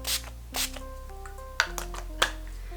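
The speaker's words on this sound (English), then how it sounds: "I again use the spray" Two quick hissing spritzes of makeup setting spray, close and fairly loud, each a short breathy burst about half a second apart, over a quiet background of soft sustained tones.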